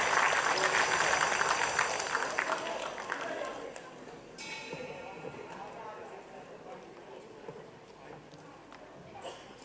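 Applause at a star-studded Mumbai awards ceremony as a singer is welcomed, a dense crowd clapping that starts loud and gradually thins and fades.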